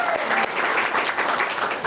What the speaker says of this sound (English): So I would like to applaud Nancy Campbell-Mead.